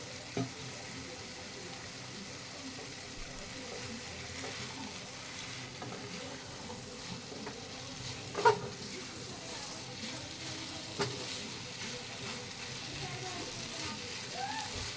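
Boiled, drained rajma added to a hot pan in a home kitchen, giving a steady faint sizzle and frying hiss with a few soft clinks of stirring, while a person talks over it throughout.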